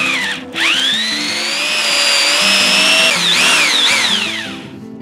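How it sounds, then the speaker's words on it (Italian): A power drill with a 9 mm bit bores through metal about 7 mm thick for a homemade canopy, its loud whining motor rising after a brief start and holding steady, then dipping as the bit bites before winding down. "E poi passerò quella da 9,"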